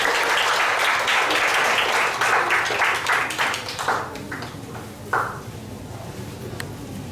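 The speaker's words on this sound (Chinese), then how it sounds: "我们以热烈掌声来欢迎周牧师" A church audience gives a pastor a warm welcome with loud, dense applause that holds steady, then thins into scattered claps and fades near the end.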